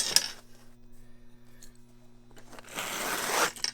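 Utility knife slicing through a carpet runner for a turning staircase, a short sharp cut near the start, then quiet, followed by a longer rasping tear of the carpet backing toward the end, close and moderately loud.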